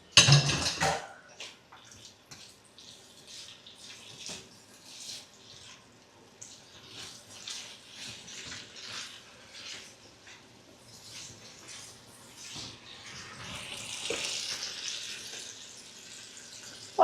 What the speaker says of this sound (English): Pour some water into that.